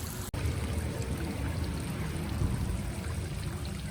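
Hot water pours steadily into a private soaking tub at a historic hot springs inn, a continuous broadband rush and splash that holds level throughout, close and fairly loud, with a brief dropout near the start and no talking.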